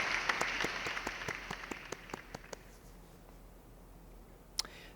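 Sparse, faint applause for a design competition award fading out after a few seconds, scattered distinct claps over a hissy wash, with one late stray clap.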